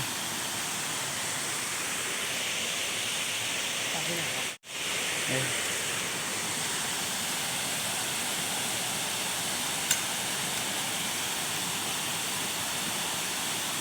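Small first-tier waterfall at Khao Sip Ha Chan in Chanthaburi gives a steady, even rush of falling water, close and constant, with a brief dropout partway through and faint sounds near the middle.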